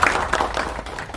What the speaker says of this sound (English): I think a big round of applause to Leela